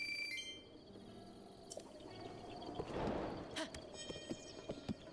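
Horse hooves clip-clop in the video game Breath of the Wild on Nintendo Switch 2, the footfalls brief and light over a soft game soundscape with a swell of ambient sound midway.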